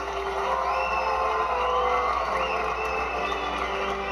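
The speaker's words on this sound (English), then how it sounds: "Even the Gryffindor are like clapping." A crowd of Gryffindor students cheers and claps in the Hogwarts Legacy video game, a dense, continuous wash of cheering with a few whoops rising above it, steady and moderately loud.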